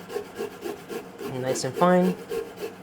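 Small carrots rubbed against a hand grater for vegan lentil tacos, a rhythmic scraping rasp of repeated strokes close by, with brief talk over it.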